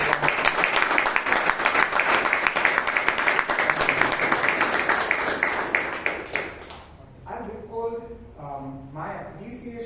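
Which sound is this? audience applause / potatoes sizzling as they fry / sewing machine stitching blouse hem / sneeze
audience applause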